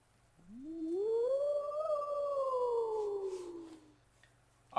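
A single long, eerie howl from the Tales of Symphonia: Dawn of the New World video game rises, holds, then slowly falls and fades over a quiet background.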